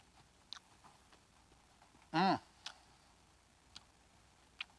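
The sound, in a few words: crunchy beer battered fried mushroom being chewed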